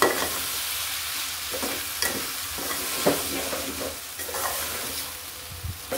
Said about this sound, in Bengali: আমি একটু চুলাটা অফ করে মিলিয়ে নিচ্ছি